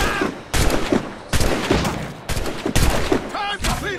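Musket volleys crack in repeated bursts in the Assassin's Creed Rogue video game, loud and close, mixed with shouted character voices and battle noise.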